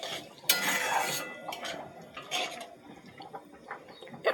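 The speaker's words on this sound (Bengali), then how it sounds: "নেড়ে দেব।" A spoon stirs lapa greens in a cooking pot, with a few scattered clinks and scrapes against the metal, quiet and close with short pauses between strokes.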